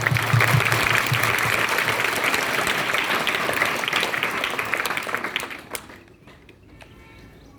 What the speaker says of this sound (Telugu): నేను గట్టిగా క్లాప్స్ కొట్టగలను